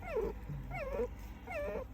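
A dog whimpers three times, each a thin, wavering whine that rises and falls, over a low steady hum.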